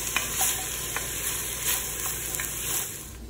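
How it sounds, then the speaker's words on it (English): Vegetables sautéing in a pot for cabbage soup, a steady close sizzle with faint scraping stirs throughout. "So you're gonna go ahead and saute this before you add the chicken broth."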